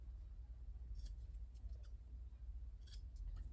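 Scissors snipping the corners of a sewn fabric tote bag, two short clusters of crisp cuts over a low steady hum, close and quiet with no talking.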